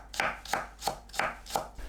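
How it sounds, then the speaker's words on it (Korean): Green onions are sliced with a knife on a cutting board: five crisp, evenly spaced chops, close and clear, with no talk. "파를 썰어주세요"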